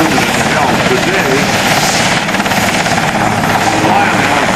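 A Navy SH-3 Sea King helicopter flies a demonstration at the 2004 NAS Oceana airshow, its loud, steady rotor thump and turbine roar filling the air without a break while an announcer talks over the PA.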